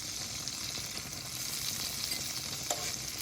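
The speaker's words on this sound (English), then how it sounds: "Give that a little 30-second sear on each side." Country ham sears in a hot frying pan, giving a steady, close sizzle with a crackle of fat throughout and no voices.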